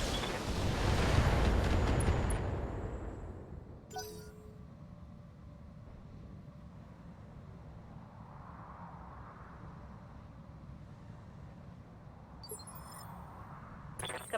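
Heavy weapons fire in the BattleTech game opens with a loud, rumbling booming burst, then drops into a low sustained roar. A few sharp cracks follow later on.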